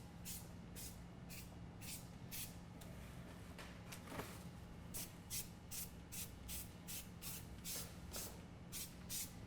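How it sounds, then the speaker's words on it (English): Spray paint goes onto raw steel where material was cut away during a lift kit install on a 2017 Silverado 2500 HD, in repeated short hissing bursts, close and fairly quiet, with brief gaps between them. "now we're going to add some spray paint to the raw steel surface where we just removed material."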